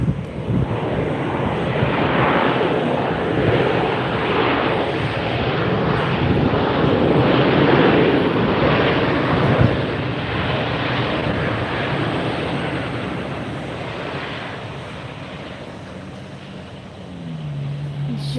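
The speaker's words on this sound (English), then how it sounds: "Just in from Dallas, flight 1433 is here." An airliner arriving at Tampa airport on flight 1433 from Dallas, its steady loud engine roar filling the air for the whole stretch and easing slightly near the end.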